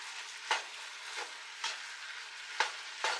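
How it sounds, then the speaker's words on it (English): Ground meat and onion fry in a pan, a steady sizzle broken by about five sharp scraping stirs as a utensil breaks up the meat, close and clear with no talking. "as your meat cooks, you want to make sure you keep breaking it up"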